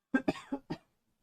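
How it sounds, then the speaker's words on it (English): A run of four short, sharp coughs from someone who is sick, close and alone in quiet surroundings. "I have to cough."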